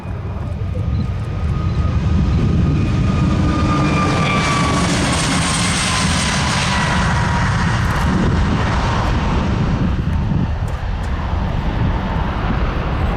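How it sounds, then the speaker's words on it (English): An Airbus airliner takes off during a display at the Farnborough International Airshow, its engine roar loud and steady throughout with a broad, rushing rumble, as the aircraft is relatively quiet for its size. "They've just been given cleared to take off."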